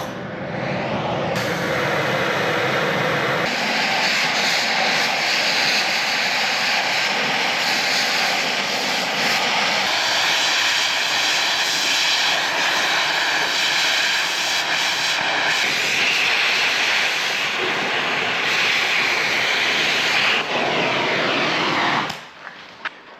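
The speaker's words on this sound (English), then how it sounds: "I'm going to take the torch and just wash these welds out of here." A cutting torch washes out welds on a skid loader bucket, giving a loud, steady roaring hiss that runs unbroken for over twenty seconds before cutting off abruptly, with no speech.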